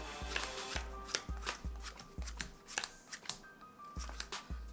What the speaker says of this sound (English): I'm just going to be splitting cards into separate piles.